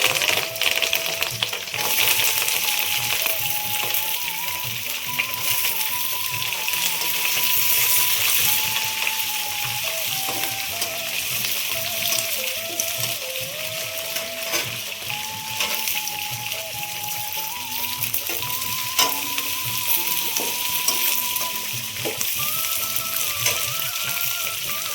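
Curry leaves sizzle and crackle in hot oil in a pan while beetroot palya is being cooked, a steady frying hiss with occasional clinks, all under a melodic background tune.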